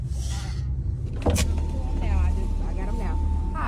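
A 1974 Mercedes SL450 Cabriolet on the road, its steady engine and road rumble running low and continuous throughout, with a brief mechanical knock or clunk partway through and people talking over the drive.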